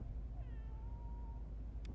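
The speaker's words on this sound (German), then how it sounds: "Das ist eine Katze." Cat meowing in the video game Crime Scene Cleaner, a single drawn-out, wavering meow that is faint and close, set over a low steady background hum.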